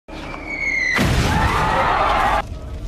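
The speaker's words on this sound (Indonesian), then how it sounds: "Kemudian ledakan demi ledakan mulai terjadi dari tembakan meriam Kujiranami." A loud, sustained booming cannon blast erupts after a rising whistle-like tone, rumbling for over a second before cutting off abruptly.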